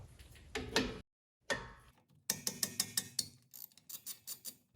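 A hand ratchet loosens a 13 mm brake caliper slide bolt on a 2018 Chrysler Pacifica front brake, ending in a close run of quick, even metallic clicks after a few earlier knocks.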